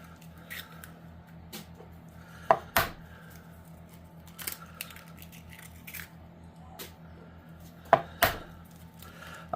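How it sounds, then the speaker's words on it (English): Eggs being cracked into a separate bowl while making Italian meatballs, a few sharp taps and cracks in two close pairs over a quiet kitchen background, with no talking. "Now I have some eggs here, which I'm going to break now into a separate bowl"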